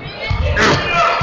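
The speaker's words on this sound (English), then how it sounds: "He's getting the airball chant from the Bedford crowd here." The Bedford crowd at a high school basketball game chants and jeers in a short, loud burst, the massed voices rising and holding through the brief moment.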